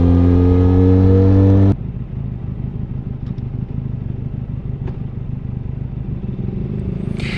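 A 2021 Benelli Leoncino 500 motorcycle starts in a high revving pull, then settles into a steady, close engine drone and rolling road noise, with a few faint clicks along the way.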